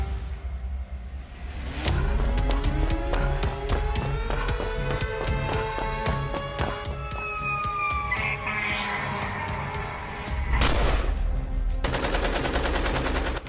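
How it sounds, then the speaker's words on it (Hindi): Dramatized terrorist attack with heavy gunfire: rapid, loud bursts of automatic shots crackle over rising and wailing siren tones, ending in a dense final volley. "दहशतगर्द ने आगे बढ़कर शदीद फायरिंग की।"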